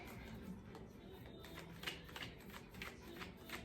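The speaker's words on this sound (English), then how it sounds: "while I go ahead and shuffle these cards, let's go ahead and take deep breaths" Soft riffling and flicking of cards being shuffled, several quick bursts close up, with faint background hum and no one speaking.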